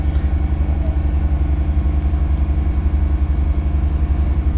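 A car engine held at full throttle gives a loud, steady droning hum with strong low rumble and an even, unchanging level throughout, close up and without speech.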